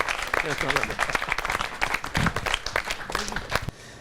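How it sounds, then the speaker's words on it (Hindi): Audience applause for a poet at a Holi celebration, loud and continuous clapping with crowd noise and voices mixed in, ending abruptly near the close. "जोरदार तालियां बजाएं अर्जुन सिसोदिया जी के लिए"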